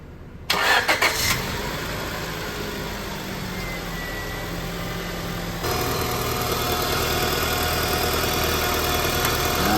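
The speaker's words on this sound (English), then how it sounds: "All right, let's start it up, see if it leaks." A 2001-2005 Honda Civic engine cranks briefly and catches after an exhaust manifold replacement, then settles into a steady, close idle hum that holds for the rest of the clip.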